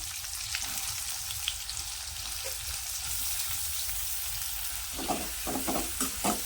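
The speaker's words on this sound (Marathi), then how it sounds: "आता यामध्ये घालणार आहे मी बारीक चिरलेला कांदा" Finely chopped onion frying in hot oil with cumin seeds and two bay leaves, a steady close sizzle with stirring scrapes and clicks toward the end.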